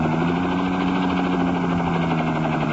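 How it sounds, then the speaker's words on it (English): A helicopter swooping downward gives a loud, constant engine drone and rotor rumble that holds steady with no break. "the helicopter zooms downward swiftly"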